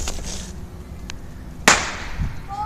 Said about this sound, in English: They're blasting off fireworks around this area.